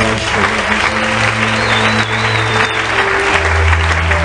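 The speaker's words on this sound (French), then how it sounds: "Est-ce qu'on peut acclamer pour ces passages?" An audience at a gathering breaks into loud, sustained applause, a dense crackle of many hands mixed with some cheering and a low musical hum beneath.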